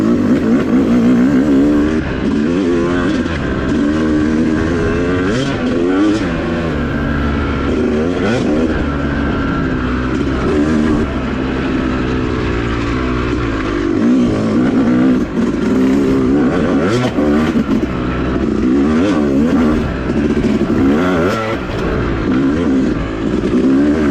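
A Yamaha YZ250 two-stroke dirt bike engine rides an off-road woods trail, droning loud and close throughout with continual revving and rising and falling pitch, no voices.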